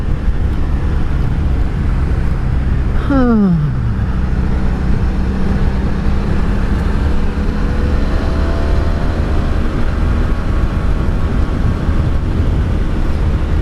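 A 1985 Honda Magna V65 VF1100C motorcycle engine on the move, a steady close roar with wind rush throughout and a brief falling sweep of engine pitch early on, as at a gear change. No talking.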